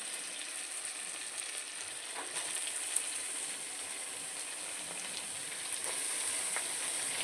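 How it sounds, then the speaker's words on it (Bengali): Cabbage goes into a pan of frying peas, potato and tomato, and a steady, even sizzle of hot oil hisses throughout with a few faint pops and no talking. "এবার এর ভেতরে আমি বাঁধাকপিটাকে ঢেলে দেবো"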